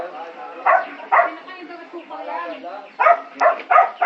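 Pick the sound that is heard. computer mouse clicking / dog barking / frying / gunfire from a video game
dog barking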